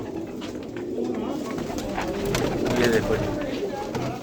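Pigeons at a large pigeon setup coo steadily in a dense, continuous flock murmur, close and fairly loud, while someone speaks over them.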